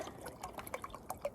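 Water poured into a pot outdoors on a snowy walk, to be boiled for hot chocolate: a quiet, close stream of liquid with small splashes and drips in an uneven rhythm, with no voices.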